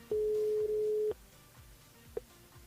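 A telephone ringing tone on a radio station's call-in line sounds as one long steady beep, followed by a short faint blip, with quiet line noise between.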